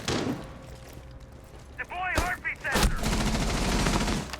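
Gunfire in a Rainbow Six Siege match: a few sharp close shots crack over steady game noise, with a brief burst near the middle. Muffled background chatter runs underneath.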